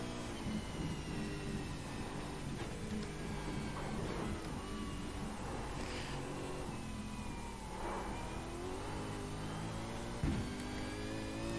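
In a racing video game, a V8 Supercar engine drones and revs around Bathurst. The tone is continuous and loud, its pitch rising and falling with the throttle.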